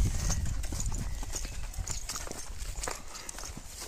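A mare walking, hooves clip-clopping in a steady irregular rhythm close by, with a faint voice in the background.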